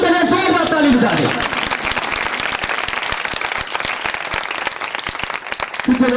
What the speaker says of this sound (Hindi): उस यीशु मसीह के लिए जोरदार ताली बजा दें।